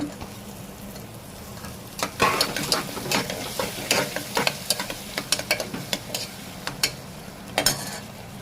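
Large onions and chopped tomatoes fry in a pan for a soya gravy: a steady sizzle under repeated close scraping and clattering stirs of a spoon against the pan.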